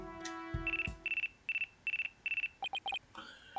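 Phone ringtone from the Ace Attorney: Dual Destinies video game, a bright electronic melody of repeated short tones in quick pulsed bursts, clean and alone after a brief jingle.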